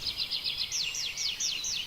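Birds chirp in quick repeated whistled phrases, bright and fairly clear, drawn from an ambient nature sound mix, over a soft steady background hiss.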